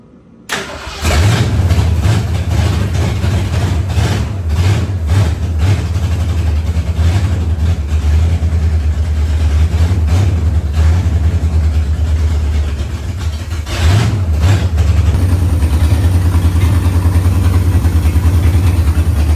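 A 1968 Torino V8, revived after twenty years in a barn with a bad fuel pump, cranks and catches, then settles into a loud, rough, steady idle with a few revs, no talking.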